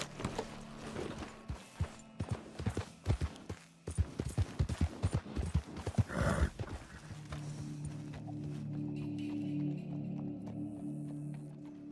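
Hooves clip-clop in a Red Dead Redemption 2 town as a horse is led along, a run of close, sharp, irregular steps that fades into a steady low ambient hum.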